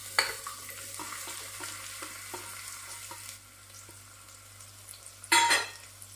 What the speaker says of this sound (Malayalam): ഒന്ന് വഴറ്റിയെടുക്കാം.